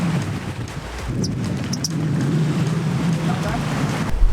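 A steady low boat motor drones throughout on a whale shark trip in the Philippines, with wind buffeting and water noise around it, and a few faint voices in the background.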